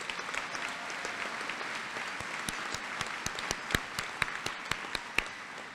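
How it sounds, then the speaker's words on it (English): A commencement audience applauds steadily, a dense wash of clapping with a few sharp, louder individual claps standing out toward the end. "Please join me in a round of applause for this group."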